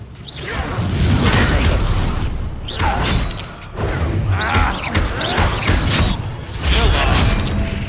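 Fiery Confringo spell blasts in the wizarding video game Hogwarts Legacy, a string of loud bursts and crashes with whooshing effects over a dense battle soundscape, with character voices heard among them.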